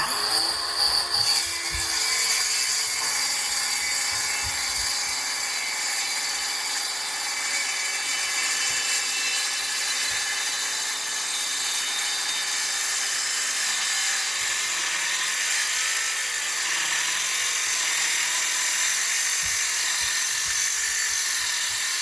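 A Hyper Tough 20V cordless 6-1/2 inch circular saw cuts through wood with a loud, high, continuous whine that holds steady for over twenty seconds, close by and alone.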